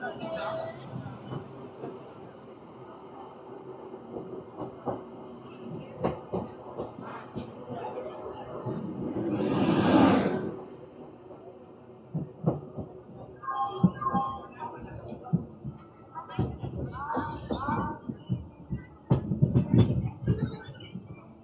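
The Tirupati Express runs along, a steady rumble of rolling wheels with repeated rail clicks and a louder swell midway, heard from close by.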